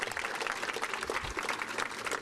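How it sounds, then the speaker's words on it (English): A crowd at a fire department foundation awards ceremony applauds for Ryan Ellis, producing a steady, even wash of clapping heard at a moderate distance and fairly quiet. "Can we have a round of applause for Ryan Ellis?"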